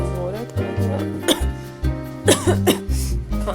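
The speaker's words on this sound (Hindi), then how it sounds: "खांसी मुझे लगी हुई है" Someone coughs several times in short bursts over steady low background music, with a voice speaking briefly between the coughs.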